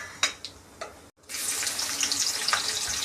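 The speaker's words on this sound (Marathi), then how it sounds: "इथे काही खडे गरम मसाले घेतलेत, ते आधी आपण टाकून घेऊ।" Whole garam masala spices dropped into a hot pan, a few sharp clicks followed by a brief pause and then a loud, steady sizzle of frying close by.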